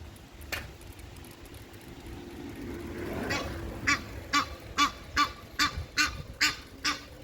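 A duck quacks in a quick series of loud honking calls close by in a village in the Netherlands, following a quieter stretch of outdoor rustle.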